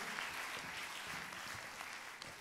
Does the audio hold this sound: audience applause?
yes